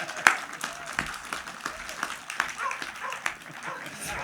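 Dog barking and yipping from the audience at a keynote talk, several sharp barks scattered over clapping and crowd noise, with a voice speaking over it.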